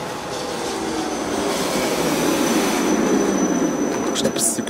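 A train rolls along the rails with a steady, loud broadband rumble and hiss throughout, close by, with no talking.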